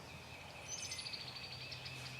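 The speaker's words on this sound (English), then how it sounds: "Early morning birds," Early morning songbirds chirp and whistle faintly through the woods, a thin continuous high chorus with a few brighter notes, no voices.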